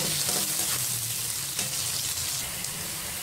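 One large sliced onion frying in a pan as it browns lightly, giving a loud, continuous close sizzle with faint stirring scrapes and no pauses.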